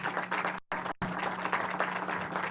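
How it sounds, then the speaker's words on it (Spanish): Applause for a speaker introduced at an anti-corruption conference in Chile, a dense steady clapping from the audience with a brief break near the start, moderately loud and continuous. "Inostroza, que es directora de Chile Compra, para quien también pido un fuerte aplauso."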